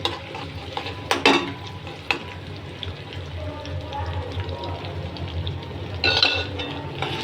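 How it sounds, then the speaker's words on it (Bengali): Small onions frying in a little ghee in a pan, a soft sizzle beneath sharp clinks and scrapes of a spoon stirring, close by, with brief talk. "এই জায়গায় একটু ঘি দিয়ে দেব সামান্য ঘি"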